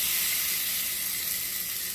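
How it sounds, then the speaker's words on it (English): Fish sizzles on the hot grill grates of a Ninja Foodi Grill XL indoor countertop grill, a loud, steady, bright hiss that holds without a break and has no voices over it. "Now listen to the sizzle."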